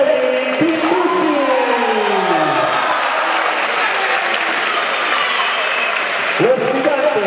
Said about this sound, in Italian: Facciamo un grande applauso alla Golodù e Kelly Pinucci.